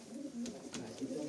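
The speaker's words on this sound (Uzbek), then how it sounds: "Mana kaptar." A pigeon offered for sale gives a soft, low cooing close by, the rolling coo repeating over a second or so against a quiet background.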